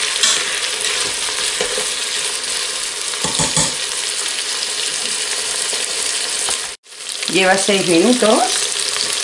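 Chicken and rabbit pieces sizzle loudly in a pan for a rice dish, a steady broadband crackle with a few stirring scrapes, broken by a brief pause and followed by a short spoken remark.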